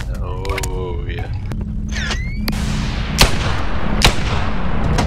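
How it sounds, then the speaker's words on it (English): Sharp single gunshots from a .44 Magnum revolver in the VR game BoneLab, two or three distinct loud cracks standing out late in the clip over steady background noise and earlier game sounds. "Takes 2 bullets to the head with 44 magnum to kill someone."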